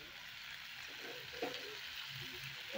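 Chili paste frying in a pan in a home kitchen, making a faint, steady sizzling hiss throughout, with a few quiet stirring and scraping sounds underneath.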